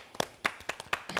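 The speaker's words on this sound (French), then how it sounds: "Je vais vous demander d'applaudir." A small audience at a talk show claps briefly, a sparse burst of individual hand claps at an uneven rhythm, moderately close and without voices over it.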